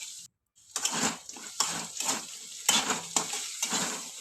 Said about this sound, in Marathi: बटाटे 5 मिनिट शिजून दिल्यावर बटाट्याला चांगलं हलवून घ्या।